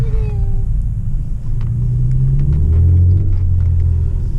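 A car, fitted with Eibach lowering springs, drives fast along a back road, giving a loud, steady interior rumble of engine and tyres with some rising revs.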